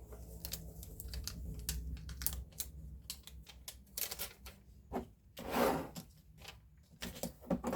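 Vinyl transfer tape being peeled back from a wooden surface, a close, quiet series of tacky crackles and rubbing ticks, with one longer ripping pull partway through, heard alone without talk.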